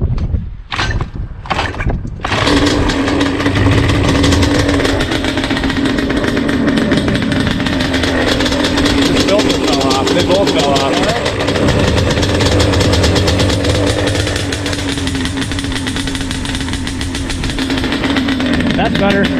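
Yamaha Banshee two-stroke engine on an abandoned ATV cranking with a few short bursts, then catching and running steadily at a loud, rough idle with some wind noise over it.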